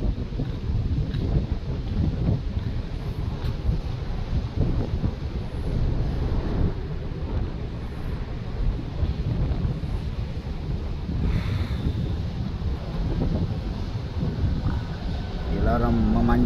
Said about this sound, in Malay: Pada kali ini angin jaga kuat.